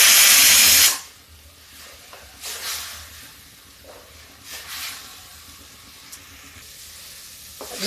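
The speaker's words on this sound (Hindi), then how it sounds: "ये मेरा प्याज भून गया है" Onions frying in a pan give a loud hiss at the start that drops to a softer, uneven sizzle with occasional swells and small pops.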